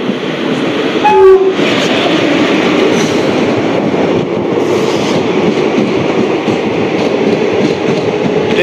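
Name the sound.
Sealdah Asansol Intercity Express train passing with horn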